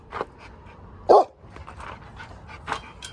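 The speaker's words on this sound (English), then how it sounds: "Stop barking." Pet dog barking indoors, a few short sharp barks with soft panting and whimpers between them, fairly close and not loud, with no talk.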